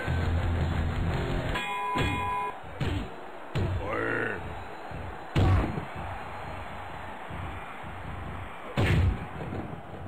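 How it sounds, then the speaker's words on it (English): In MDickie's Wrestling Revolution video game, a ring bell clangs with bright metallic rings, mixed with heavy slams, thuds and grunts that recur across about ten seconds. "Ring the bell."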